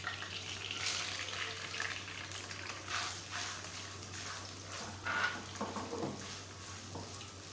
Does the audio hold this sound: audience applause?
no